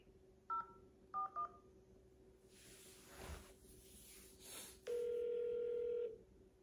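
Telephone keypad tones sound after an automated phone menu: a few short beeps, then a longer steady tone near the end, all clear and close over faint line hiss.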